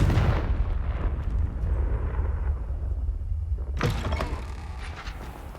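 Confringo fire spell from Hogwarts Legacy bursting with a deep, rumbling blast that rolls on at length, then a second sharp crackling burst near the end.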